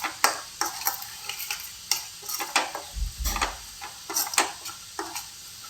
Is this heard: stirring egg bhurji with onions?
yes